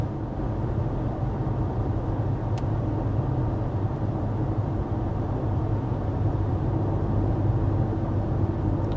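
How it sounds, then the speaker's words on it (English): Steady, even road and engine hum inside a Mercedes GLC 300 cabin cruising at 55 mph with the climate fan on its lowest setting, a continuous low rumble with no talk. "we're going to speed up to 55 miles per hour so we can get a sound level reading in this GLC 300"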